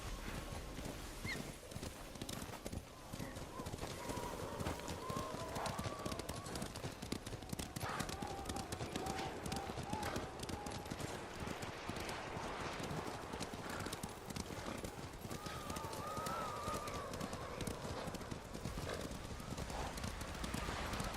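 A horse's hooves clip-clop at a steady gallop throughout the ride in Ghost of Tsushima, with an occasional whinny, set under ambient wind and voices talking.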